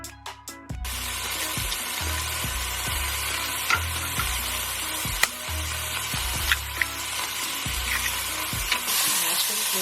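Food browning in a pan with little or no oil for fried rice, a steady loud sizzle with recurring stirring scrapes and clinks throughout, no voices.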